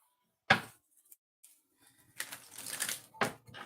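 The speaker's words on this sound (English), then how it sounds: "That was a terrible shuffle." Sharp papery snaps followed by a quick riffling flutter, like playing cards being shuffled close by, with quiet gaps between.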